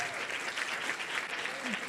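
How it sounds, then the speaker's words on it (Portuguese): Audience applause at a gathering of Lula with evangelical leaders, a steady wash of clapping filling the whole stretch at an even level, with a voice faintly beneath it. "Salva de palmas."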